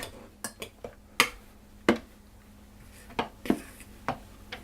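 A fork clinks and scrapes against a bowl while stirring cheddar cracker dough, with a series of sharp separate taps and knocks at an uneven pace, close and fairly quiet.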